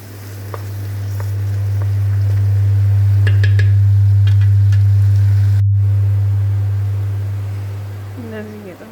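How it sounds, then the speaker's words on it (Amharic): Fish fries in a pan with a steady broadband sizzle over a loud low hum, occasional utensil clicks, and a brief dropout near the end. "እንደዚህ እየጠበስኩት ነው ማለት ነው።"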